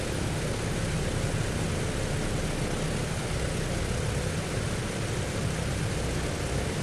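DC-6 propeller airliner taxiing in Microsoft Flight Simulator, a steady broadband engine and propeller drone holding at even loudness without change.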